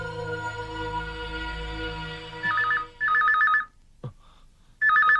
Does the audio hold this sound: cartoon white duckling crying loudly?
no